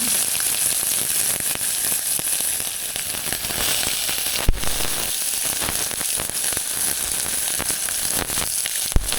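Garlic and onion sautéing in a pan as they are stirred, a loud continuous sizzle and crackle with sharp pops and scraping stirs, close and dense throughout, no voices.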